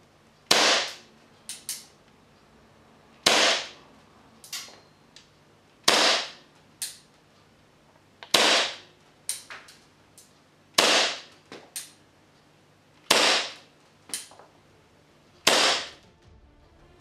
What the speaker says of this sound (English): Let's put a few more rounds through this chrono and see what we get.